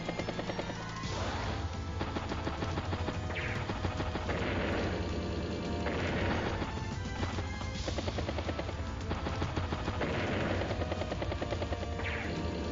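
Unit attacks in the video game Advance Wars: Days of Ruin, with bursts of gunfire, crashes and whirring engine noise rising and falling in several waves over a steady background of game sound.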